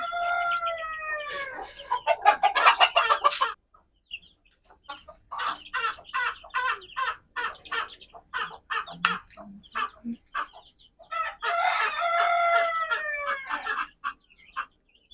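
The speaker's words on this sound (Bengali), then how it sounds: "আর এখন আমরা এই ফার্স্ট টাইমের মতো আমাদের দেশি মুরগির বাচ্চাগুলোকে ছাড়বো" Native deshi chickens on a farm make loud, close calls: drawn-out crows near the start and end, with choppy runs of rapid clucking between them and a few quiet gaps.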